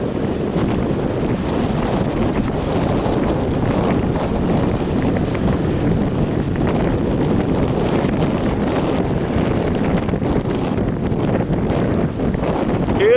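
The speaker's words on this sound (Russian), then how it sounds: "Смотрите, как волна пойдет." Windy seafront at Sumgait with sea waves surging and breaking, a constant roar buried under heavy wind buffeting on the microphone and no voices.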